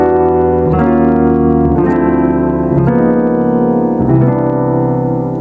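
Jazz chord progression played with lush minor 9 chords on a keyboard, four sustained chords struck about a second apart, loud and close with no talking.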